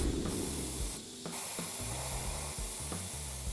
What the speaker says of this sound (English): So that is spraying at 2 bar